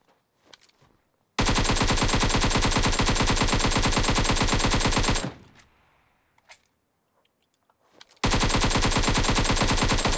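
Automatic gunfire in the mobile battle royale game PUBG Mobile: two long, loud sustained bursts of rapid machine-gun shots separated by a few seconds of quieter sporadic sounds.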